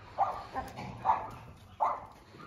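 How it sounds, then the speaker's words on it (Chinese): Dogs playing in the dirt at a mountain dog shelter give three short, soft barks spaced about a second apart, heard from a moderate distance over faint background noise. "看这些狗狗们挺喜欢在土地里面玩的"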